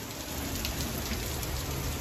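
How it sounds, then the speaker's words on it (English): Hail pours down steadily during a motorcycle trail ride, a dense, even patter of small impacts throughout with no voices. "It started hailing on us."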